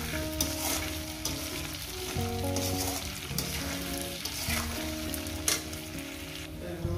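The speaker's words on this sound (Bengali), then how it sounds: "কচুটা আমার এখনো ঠিকঠাক ভাজা হয়নি, আমি আরো 5-6 মিনিট ভেজে নেব।" Taro pieces fry in hot oil in a pan, giving a steady, close sizzle with occasional stirring scrapes, while soft music plays faintly underneath.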